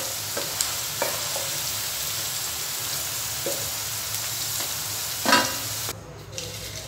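Cauliflower chilli pieces sizzling steadily in hot oil in a pan, a continuous frying hiss with a few scraping stirs, close and fairly loud with no talk.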